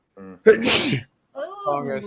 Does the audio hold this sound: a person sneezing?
yes